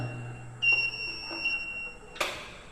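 A mains-power alarm buzzer sounds a high, steady electronic tone for over a second and a half as the supply is switched to the generator, followed by a sharp click.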